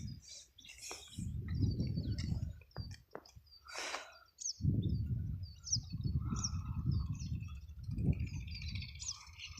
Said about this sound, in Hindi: ये चिड़िया बहुत आ रही है गेहूँ खाने के लिए।